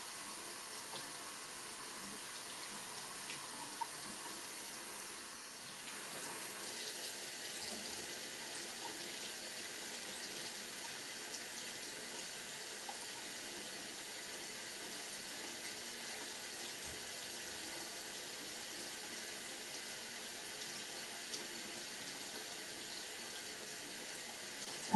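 Water runs steadily from a tap, a continuous hiss of flow with no voices, holding an even level throughout.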